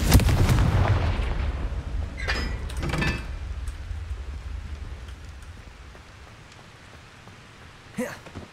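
Confringo and Incendio spells cast in Hogwarts Legacy give a loud fiery blast that rumbles and fades, with a couple of crackling bursts and a brief crack near the end.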